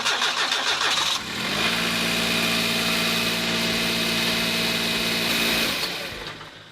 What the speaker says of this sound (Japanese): 一回エンジン回してみる？